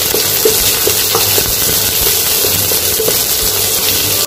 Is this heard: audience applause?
no